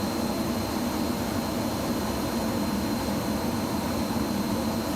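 A Red Arrows Hawk T1 jet in Microsoft Flight Simulator 2020 makes a steady, even cockpit engine roar with a faint high whine throughout, heard alone without talk.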